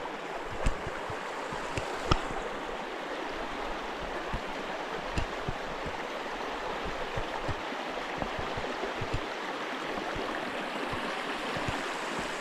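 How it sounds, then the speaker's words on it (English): Below a waterfall, water rushes and is forced between boulders, making a loud, continuous roar with occasional splashing knocks, heard up close with no talking. "there's loads of boulders here where the water's getting forced through between them."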